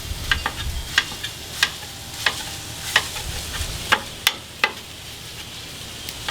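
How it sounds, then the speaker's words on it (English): Chorizo sausage being chopped and mashed on a hot flat top for breakfast burritos, giving a steady low sizzle broken by sharp, repeated spatula scrapes and taps at an uneven rhythm, close and moderately loud, with no talking. "We're going to cut it up, put it on the flat top, and let it cook."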